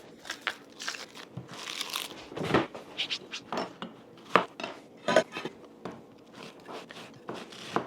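Onion being roughly chopped with a knife on a board while making a beef stew, giving a series of irregular close crunching knife strikes and clatters with no talk.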